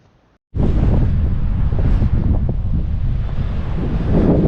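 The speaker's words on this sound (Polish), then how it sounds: "Pięknie, ale naprawdę bardzo wietrznie." Strong wind buffets the microphone in a loud, steady roar after a brief quiet start, with surf-like rushing throughout, at Steinvike.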